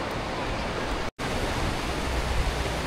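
A river rushes near the Old Manali bridge as a broad, steady roar of flowing water, constant and close, broken only by one very brief gap.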